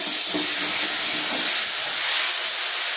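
Spice masala sizzles and fries in hot oil while cooking for a Bengali fish curry, a steady loud hiss with faint stirring scrapes, no talking.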